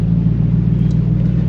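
Inside a Lexus SC430 on a neighborhood drive, a steady low road and engine rumble holds at a constant loud level with no voices.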